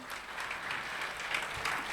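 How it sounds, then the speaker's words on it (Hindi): Steady applause from an audience at a Brahma Kumaris spiritual drama gathering in Bahadurgarh, a continuous, even clatter of many hands held for the whole moment with no voices over it. "ताली बजाए इसके लिए।"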